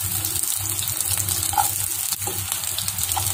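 Ginger, garlic and shallots fry in a hot pan while being stirred, a continuous close sizzle with soft scraping and a faint clink partway through, no speech.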